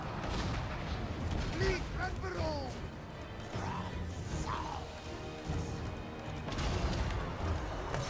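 Artillery counter-fire in the video game Total War: Warhammer 2 comes as repeated booming crashes and impacts layered within continuous battle noise, with a voice apparently talking over it throughout.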